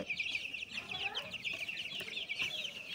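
Twenty-day-old Tiger breed chicks on a farm peep and cluck continuously in a dense, high chorus, close by, with no talking.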